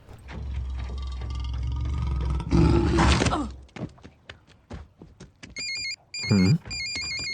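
A mobile phone rings in a repeating electronic tone pattern near the end, following a loud vehicle roar and a few thuds and knocks, in a scene from a Hindi-dubbed action film.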